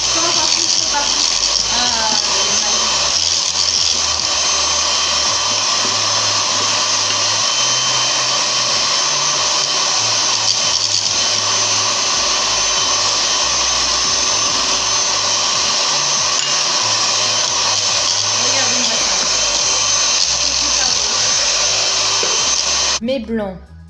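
An electric mixer whips chickpea aquafaba with sugar into stiff peaks, giving a loud, close, constant high whirring drone that runs unbroken and then cuts off at the very end.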